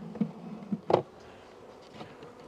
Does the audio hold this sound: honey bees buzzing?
yes